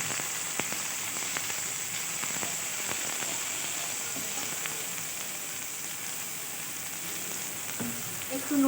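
Onions sizzle steadily in hot oil in a pan with panch phoron spices, a soft continuous crackle with occasional small pops and faint stirring, no voices.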